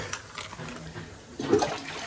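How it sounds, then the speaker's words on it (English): A toilet flushes at a lodge, a brief faint rush of water that swells in its second half, with no talking. "flush the toilet."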